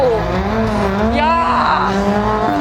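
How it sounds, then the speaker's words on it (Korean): A Hyundai i20N Rally2 race car pulls away at a Hyundai-Toyota festival, its engine note rising and shifting through gears close by, heard briefly under excited commentary. "지금 이 i20N 랠리 2 경주차가 출발을 하고 있는데요"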